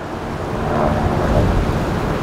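Heavy wind buffeting the microphone, a constant low rumbling roar that fills the clip with no other clear sounds.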